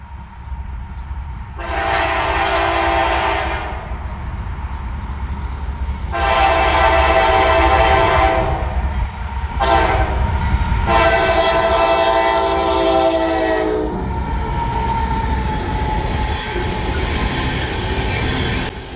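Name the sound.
CSX trains passing through town with horn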